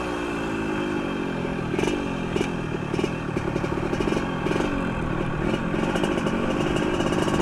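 A Yamaha RXT 135 motorcycle engine runs steadily near the listener while the throttle is worked, giving a constant buzzing drone with rough, clattery texture and slight rises in pitch. No one talks over it.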